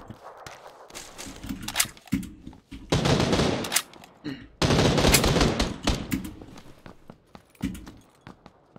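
Gunfire in PUBG on the Sanhok map, with bursts of automatic shots in several loud clusters, some sustained for about a second, separated by quieter gaps with faint clatter.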